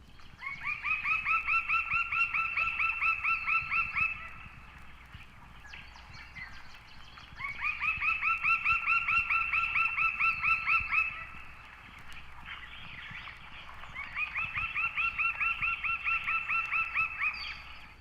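A lineated woodpecker in Mexico calls in three long, rapid runs of bright repeated notes separated by short pauses, clear and fairly close over a quiet background.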